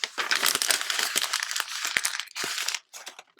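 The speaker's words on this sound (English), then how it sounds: "let me grab a new piece of paper. Here is the same sound on the low suppression option" A sheet of paper is crumpled and crushed by hand, picked up through Zoom's low noise-suppression setting: a dense, continuous crinkling with brief pauses near the end, close and fairly loud, with no talking.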